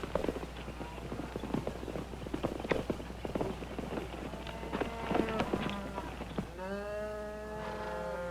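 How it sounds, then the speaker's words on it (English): Horses' hooves clip-clop on the ground as riders arrive to water their horses in a western setting, steady near footfalls mixed with scattered clatter, ending under a rising sustained musical tone. "Hope you don't mind us watering our horses."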